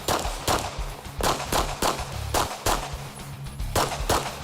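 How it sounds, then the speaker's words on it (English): Rapid gunfire at steel targets on a USPSA competition stage, with about a dozen sharp shots in quick bursts separated by brief pauses, loud and close, and no talking. "He mows down the 5 steel targets, and there's the final reload."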